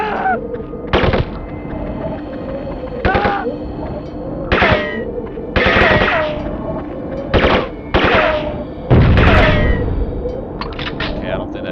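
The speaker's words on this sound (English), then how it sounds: "I don't think that explosion did anything" Gunfire and a satchel charge blast in the video game Spec Ops: Ranger Elite sound as repeated loud bursts of shots and booms in clusters, with talk running underneath throughout.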